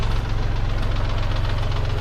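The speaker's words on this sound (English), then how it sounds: "Oh, I'm really loving the tractor now." A tractor engine runs at a steady idle, its low rhythmic knocking pulse close and loud with no speech.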